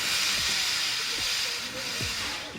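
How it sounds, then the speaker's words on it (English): Hissing steam effect from the Italian-made 3-D film Dracula 3D, a steady loud broadband hiss running the whole stretch with faint low rumbling underneath. "Wow, it's like that steam is just leaping off the screen."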